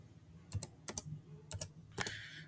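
A PIN is keyed in on a computer keyboard: several crisp, close key clicks land in pairs at a steady pace, alone in a quiet room.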